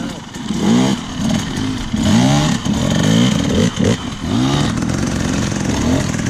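A dirt bike engine revs loudly while riding, with rising and falling throttle sweeps that repeat as the rider works it, and voices are heard over the noise.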